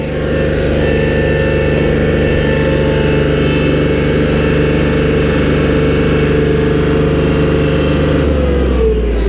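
A John Deere 4105 compact utility tractor engine runs under load while driving, a loud steady diesel drone with constant mechanical whine, close up, easing down in pitch near the end, no talk.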